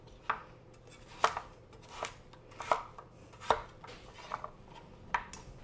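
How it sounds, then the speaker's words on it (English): A knife cuts vegetables in half at an angle on a cutting board for a beef stew, giving sharp, crisp chops spaced about every second, fairly quiet and close with a light board knock on each stroke. "Cut them in half, and let's cut it at an angle."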